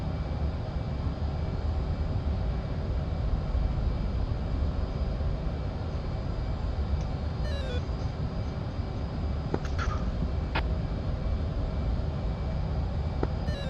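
A military jet engine at full thrust in a combat flight video game, a constant, dense roar that holds steady throughout without letting up.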